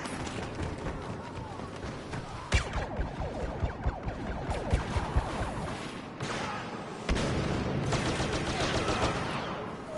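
Blaster fire in the Star Wars Battlefront video game, rapid overlapping bursts of shots and explosive cracks over a dense battle din, with a voice talking at times.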